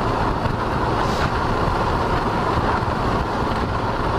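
Steady broadband wind roar and road rumble from a motorcycle cruising at 90 km/h with the helmet visor open, loud and continuous throughout without pause.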